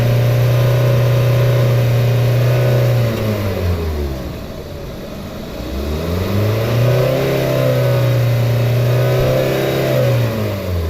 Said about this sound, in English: you hold the RPMs up like this, watch underneath the car